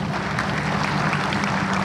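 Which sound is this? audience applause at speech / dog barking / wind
audience applause at speech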